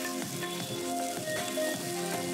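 Two medium boiled potatoes sizzle and fry in hot cooking oil in a pan, a steady close crackling hiss with faint stirring and no voices.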